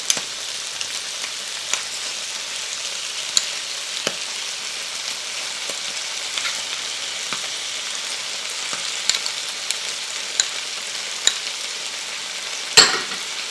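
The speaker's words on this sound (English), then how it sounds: "I'm going to stir this up and saute it for about 1 minute." Minced garlic and tomato paste sauté in a pan with a soft, steady sizzle, punctuated by occasional scrapes and taps of a utensil stirring, fairly quiet and close.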